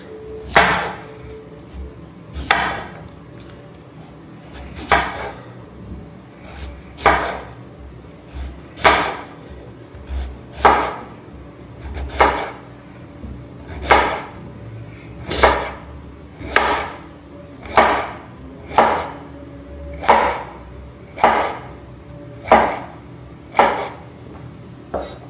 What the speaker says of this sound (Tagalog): It's time for us to chop.